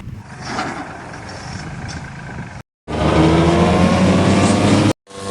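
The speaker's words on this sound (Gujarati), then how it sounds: "જો આપણા કાકાએ ટ્રેક્ટર ચાલુ કરી દીધું છે" A loud, steady tractor engine drone runs continuously, with a heavy low rumble and a couple of abrupt brief cutouts.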